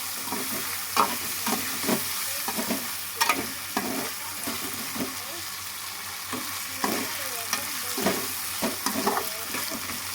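Chopped tomatoes fry in hot oil for egg biryani while a spoon stirs them in the pan, giving a steady sizzle broken by repeated scraping strokes, with no talking.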